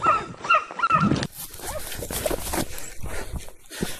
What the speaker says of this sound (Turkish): Dur dur köpek var.